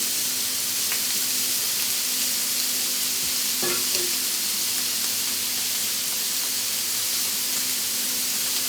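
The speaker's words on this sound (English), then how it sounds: "Nice sizzle. You want your griddle to be hot." Beef bacon frying on a hot Blackstone flat-top griddle gives a steady, loud, continuous sizzle with faint scraping and tapping of a spatula, and no voices.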